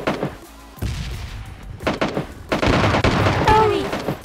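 Rapid gunfire bursts in the mobile battle game PUBG Mobile Lite, with dense, overlapping shots and booms that grow louder and more sustained toward the end.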